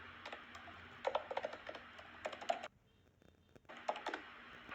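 Close-up typing on a computer keyboard into a search box comes in quick bursts of light clicking, pausing briefly before a final short run of keystrokes, quiet and with no talk.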